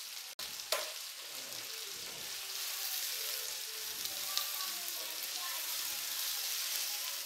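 Chicken with cumin and salt cooks in a pan, a steady sizzle and frying hiss after a sharp knock at the start, with occasional stirring scrapes.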